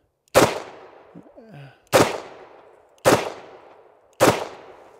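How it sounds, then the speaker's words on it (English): Taurus Executive Grade 865 revolver fired at soda cans outdoors, four loud sharp shots spaced about a second apart, each trailing into a short echoing decay, with a brief voice murmur between the first two. "Let me see if I can shoot a couple of these soda cans and make some things explode."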